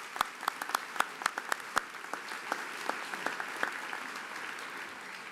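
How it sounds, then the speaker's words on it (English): Audience applause at a college commencement ceremony, several sharp nearby claps ringing out over a softer spread of distant clapping from a large crowd, fairly quiet overall. "And I think that deserves a round of applause."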